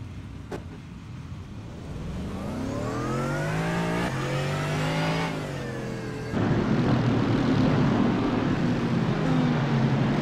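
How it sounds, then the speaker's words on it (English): A pack of 40 racing cars, mostly Mercedes, accelerates away from the start of a sim race at Monza. The engines rise and fall in pitch as they rev through the gears, growing louder and denser. "We're going to see 40 cars make their way to start OSC round 9."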